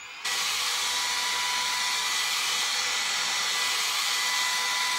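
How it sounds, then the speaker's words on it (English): A fan switches on with a short click and then blows with a steady, loud whooshing whine, drying spray on a blonde bob wig. "Take a fan and dry it down a little bit."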